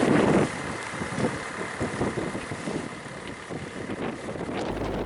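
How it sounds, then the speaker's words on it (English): Strong wind buffets a sailboat leaving Carrickfergus marina, bound for Ardglass: a constant roaring rush of wind over the microphone with hull and water noise beneath, continuous and close. "the wind was really blowing hard from the direction of Belfast"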